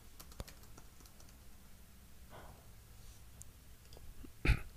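Keys on a computer keyboard click under close, quiet typing in short irregular bursts, ending with one louder tap.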